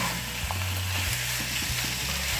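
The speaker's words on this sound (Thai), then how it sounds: "หอมมากเลยค่ะคั่วอีกสักพักก็จะใช้ได้แล้วค่ะ" Gaur beef stir-frying with red curry paste gives a loud, dense sizzle close up, broken by short scraping stirs of the spatula, with no talk over it.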